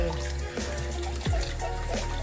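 A kitchen tap pours water steadily while fresh farmed shrimp are rinsed under it, giving a continuous close splashing stream with a few soft clinks and slurps of handling.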